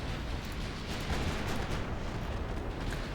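Naval 5-inch gun fire in a warship video game, a dense rumbling barrage of booms rolling together without clear gaps, loud and continuous with no talk.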